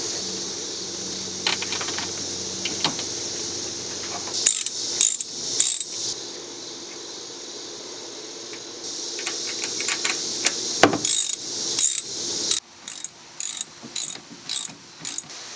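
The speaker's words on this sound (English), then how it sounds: "We'll stick this nut back on." Ratchet wrench tightening a nut onto a bolt on a Kubota x900RTV utility vehicle, with quick runs of metallic clicks in separate bursts between stretches of low background hum.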